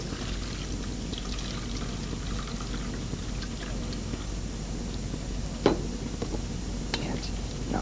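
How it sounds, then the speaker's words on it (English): Water is poured carefully out of a baking dish that holds a moldable compound. A gentle, steady trickle and splash continues throughout, with a faint voice murmuring underneath. "I'll remove the water carefully"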